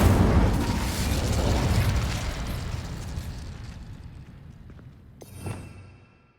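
Incendio fire spell cast in Hogwarts Legacy: a loud, roaring burst of flame that fades over several seconds, followed by a short sharper flare near the end.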